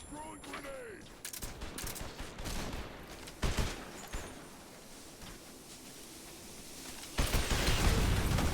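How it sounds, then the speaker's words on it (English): Artillery strike explosions in the Metal Gear video game, a dense barrage of booming blasts and crackling gunfire-like bursts, with a heavier roar swelling near the end, loud and continuous. "I walked into an artillery strike"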